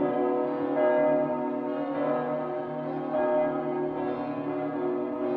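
Bells of the collegiate church in Aire-sur-la-Lys peal continuously, their overlapping strikes blending into a steady, resonant ringing tone that holds at an even level throughout, with no voices.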